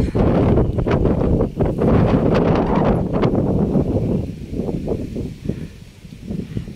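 Steady wind buffeting the microphone, a loud rumbling roar with gusts that ease off slightly toward the end.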